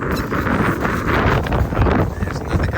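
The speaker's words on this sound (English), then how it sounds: "There's another gust." Wind gusts buffet the microphone on a snowy mountain, Mount Mansfield, a loud rumbling roar that swells and dips throughout.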